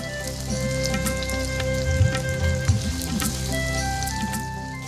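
Banana flower curry with green chili paste, turmeric and salt fries steadily in a pan on a clay stove, giving a continuous close sizzle with faint stirring scrapes and no talk.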